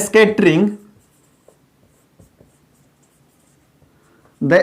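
Chalk or marker makes faint, brief scratches while writing on a board during a chemistry class, heard in a quiet pause between bursts of a man's speech.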